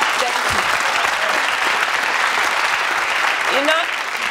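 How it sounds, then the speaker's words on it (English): Studio audience on a talk show about the South African Music Awards claps loudly and continuously, a thick wash of applause with brief vocal sounds underneath and faint voices near the end. "Deserves a round of applause, I think."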